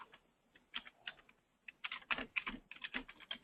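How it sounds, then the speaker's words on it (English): Fingers type on a computer keyboard to enter an address in a route optimization app, a quick irregular run of close, crisp key clicks with no one talking. "We'll start typing"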